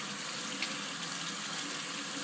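Cold water running steadily from a sink tap, a continuous close hiss and splash with no talk, used while rinsing dirt off an old Lionel postwar toy train car.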